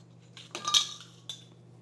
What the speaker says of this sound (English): My last step is to put on my lids.